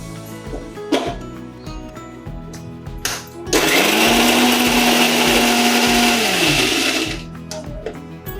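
A mixer grinder coarsely grinds coconut, garlic and coriander into a masala, a loud steady whirring run of about three and a half seconds after a few short knocks and taps, then stopping abruptly.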